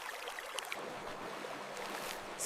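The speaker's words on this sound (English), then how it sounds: "There's a stream nearby. I hear it! I hear the water!" Steady, faint rushing and trickling of a nearby stream, continuous and even with no voices over it.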